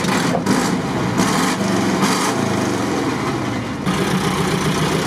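ZAZ Zaporozhets car engine running after starting, a loud, steady, buzzing air-cooled rattle heard up close with no voices over it.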